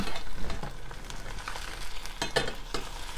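An egg frying in a pan for a fried-egg sandwich, a crackling sizzle with a few sharp spatula scrapes as it is tilted and flipped, close, with no talk.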